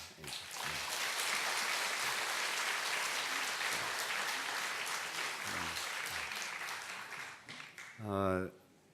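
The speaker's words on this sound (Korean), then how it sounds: "다시 한번 박수로 축하해 주십시오" A church congregation applauds during a service, a sustained and lively round of clapping from many people. It fades as a voice begins speaking at the end.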